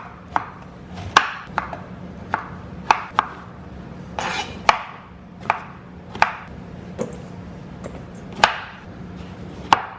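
A knife chops zucchini into bite-sized pieces on a cutting board, about a dozen sharp, crisp knocks at an uneven steady pace, close up with no talking.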